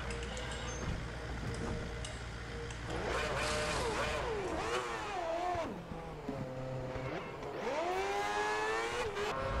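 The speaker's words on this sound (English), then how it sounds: "Get the car off the jacks and start the engine." A Formula One car engine starts and runs in F1 2010 at the Malaysia round, giving a loud, near, high-pitched whine that sweeps up and down through repeated revs over steady background noise, with no talk.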